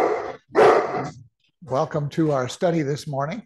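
Inside a church, a dog gives two loud, sharp barks at the start before someone speaks over a quiet room.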